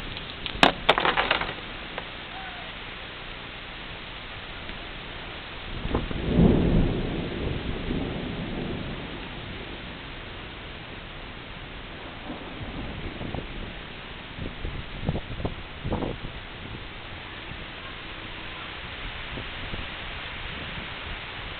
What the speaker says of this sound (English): It's raining all over.